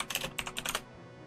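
Rapid clicking on a computer keyboard comes in a quick burst of about a dozen close, crisp keystrokes over a faint background hum, then stops.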